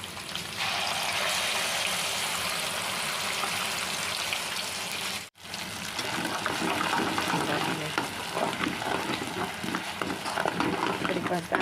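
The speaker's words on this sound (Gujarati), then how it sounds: "હવે હલાવી લઈએ પનીર તળાઈ ગયું એ જ તેલમાં આપણે આમ ગ્રેવી બનાવીને નાખી દઈશું" Gravy stirred into hot oil left from frying paneer for a Punjabi-style curry, giving a steady loud sizzle and bubbling with scraping stirs, a brief break midway, then continued frying.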